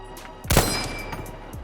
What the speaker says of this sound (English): who doesn't love the sweet and unmistakable chime of the clip being ejected from this rifle?